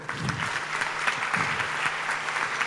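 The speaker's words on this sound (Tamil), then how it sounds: "சுதாக்கு நல்ல பலத்த கரகோஷம் கொடுங்க." An audience at a drum-school event claps for a guest being welcomed: dense, lively applause from many hands, fairly close and sustained for the whole stretch without pause.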